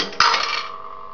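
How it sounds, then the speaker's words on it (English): A single bright gong struck inside a 1960s Western Electric three-slot pay phone for a quarter, close and loud, its metallic tone ringing on and slowly fading. "and a gong for a quarter"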